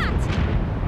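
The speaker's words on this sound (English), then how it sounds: "What was that? Sounded like an explosion." A cartoon explosion effect from an animated series: a single loud, rumbling blast with a sharp start that stays dense and roaring for about a second, with no voices.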